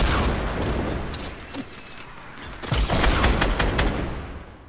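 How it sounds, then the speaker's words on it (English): Sustained bursts of gunfire in Fortnite Battle Royale duos, rapid overlapping shots and heavier booms layered into a dense, loud fusillade that swells again midway, with no talk. "they're shooting a lot."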